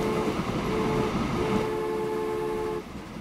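A train rolls along steadily in the Transport Fever simulation game set in 1930s Germany, with a continuous mid-level rumble and faint tonal whine, no talking, easing off near the end.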